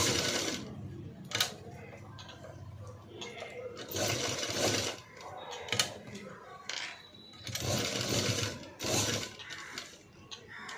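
Sewing machine running in short bursts while double-stitching a blouse, the motor whirring in several separate runs separated by brief pauses, fairly close.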